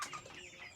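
Backyard chickens on a deep-bedding farm in Barili, Cebu, give a short, soft burst of clucking close by, with no talk over it.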